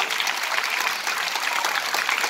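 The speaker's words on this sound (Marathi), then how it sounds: "मग जोरदार टाळ्या वाजवायच्या त्यांच्या नावाने" Children and staff at a municipal school Independence Day celebration clap loudly for their teachers, a dense, continuous burst of applause with no voices over it.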